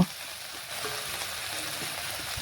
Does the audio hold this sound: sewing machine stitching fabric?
no